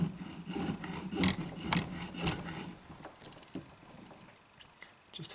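A file cuts string slots into a bone nut on an acoustic guitar, giving a run of close, rhythmic rasping strokes for a few seconds before it thins to quieter scraping and handling noises.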